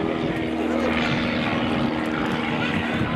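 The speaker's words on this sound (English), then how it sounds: "Come on, Hobie, straighten that airplane out." A propeller aircraft flies a T-Clips aerobatic routine at an evening airshow, its engine drone steady and fairly loud throughout, with an announcer's voice over it.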